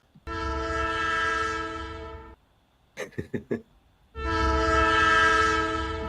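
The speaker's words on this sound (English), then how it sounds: "Is there a freight train coming?" A loud, sustained freight train horn sound effect blares twice, separated by a short burst of clattering, clicking noises in between.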